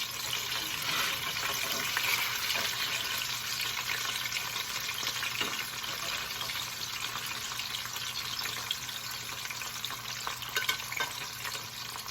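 Spicy tandoori fish frying in a pan, a constant loud sizzle with crackling spatter throughout, no voices.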